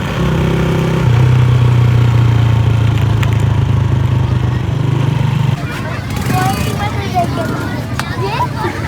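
A new Honda motorcycle's engine runs with a steady, low idling drone that shifts and drops partway through, with people talking over it.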